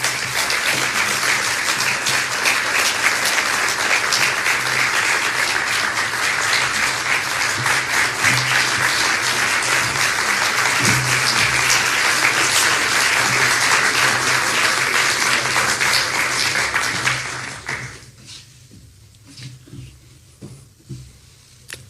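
A large audience applauds steadily and loudly for about seventeen seconds, welcoming Donald Trump to the stage at a foreign policy speech in Washington, DC, before the clapping fades out to near silence.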